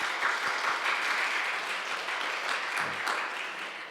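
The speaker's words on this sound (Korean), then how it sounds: "우리 박수로 환영할까요?" Church congregation applauding to welcome a visitor during a Sunday worship service, a dense steady clapping that holds for about three seconds, then fades, with no talking.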